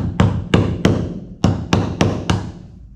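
Sharp knocks on a boat hull while wooden bungs are removed from six bronze fasteners in a rebuilt, refastened hull: seven distinct taps in uneven rhythm, close and fairly loud with a resonant low thump after each, no talking.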